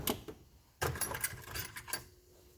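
Someone rummaging through drill bits, small metal pieces clinking and rattling in a few short bursts, close and fairly quiet.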